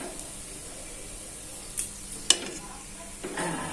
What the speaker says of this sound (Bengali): পেঁয়াজগুলো সুন্দর করে লাল লাল করে ভেজে নেব